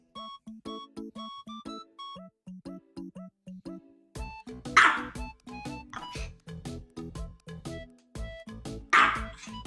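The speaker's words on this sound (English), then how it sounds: "And now you're going for the double bark?" Dog barking in short bursts, first as sparse yips over a quiet tonal background, then several louder barks amid busier clattering sounds, fairly close.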